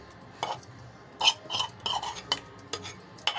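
Chana dal pakora batter being mixed with spices in a bowl, a spoon clinking and scraping in short irregular strokes, close and fairly quiet with no talking.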